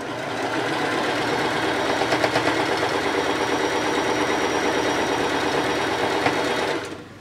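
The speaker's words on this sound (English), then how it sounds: "I've just sewed this seam" A sewing machine stitches a seam on a Crown of Thorns quilt block with a fast, steady mechanical whir and rapid needle clatter. It runs close and continuous for several seconds, then stops abruptly at the end.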